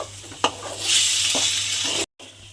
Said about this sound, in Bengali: টক দইটা দিয়ে আমি ভালোভাবে আবারও মিশিয়ে নিয়েছি।